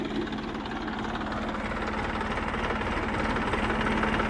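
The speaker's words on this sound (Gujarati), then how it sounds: "બાકી આ મેસી ટ્રેક્ટર છે" A Massey tractor engine runs steadily nearby, a continuous low throbbing drone with an even mechanical pulse and no voices over it.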